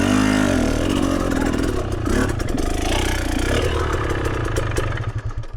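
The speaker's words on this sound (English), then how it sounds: "Oh boy, I'm gonna go into first gear." A motorcycle revs and clatters up close as it drops into first gear and pulls away, engine note rising and then fading over a few seconds with no voices.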